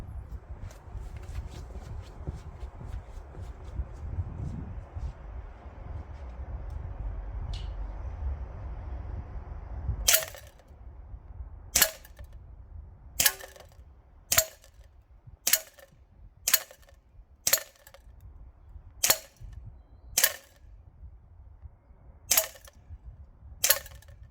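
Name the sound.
Cyma gas system airsoft gun firing at 10 meters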